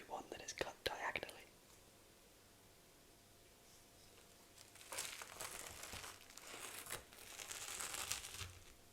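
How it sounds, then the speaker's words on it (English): A knife saws diagonally through a toast sandwich, giving soft crunchy crackles and rasping strokes at close range, with brief crinkly sounds at the start, a quiet pause, then two louder bursts of crisp cutting. "I will cut this now, just so we can get that cross section"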